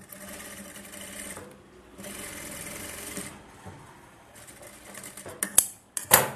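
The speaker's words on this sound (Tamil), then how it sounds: "இப்போ வந்து சுற்றி ரஃப் ஒரு தையல் போட்டுருவோம்" Tailor's sewing machine stitching a blouse, running in two sustained whirring bursts separated by a pause, followed by sharp clacks and handling noises near the end.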